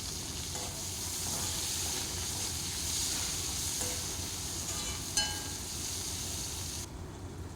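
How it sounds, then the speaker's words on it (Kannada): Tomatoes fry with ivy gourd in a pan, giving a steady, close sizzle and hiss throughout, with occasional faint clinks of stirring. "ಟೊಮೆಟೊ ಹಾಕಿ ಕೂಡ ಫ್ರೈ ಮಾಡುವ."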